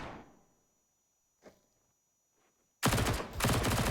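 A sudden loud burst of rapid SMG fire erupts in CS:GO on the Overpass map, a continuous stream of shots after a near-silent stretch with a few faint clicks and footsteps.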